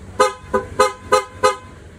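A car horn, worked by a rusted switch, honks five times in a steady, evenly spaced rhythm, loud and close, with no talking.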